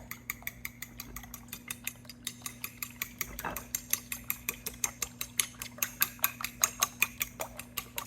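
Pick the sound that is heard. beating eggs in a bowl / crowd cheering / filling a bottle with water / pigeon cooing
beating eggs in a bowl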